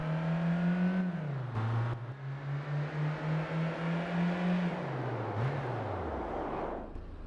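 A race car in Gran Turismo PSP revs up hard through several gear shifts, holds a pulsing engine note, then winds down in pitch as it brakes to a stop, loud and close with no talking.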